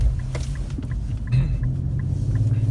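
Steady low exhaust drone from an Infiniti Q50 with an axle-back muffler delete, held around 2,700 rpm while cruising; a continuous deep hum with a slight swell midway, fairly loud under road noise, no talking.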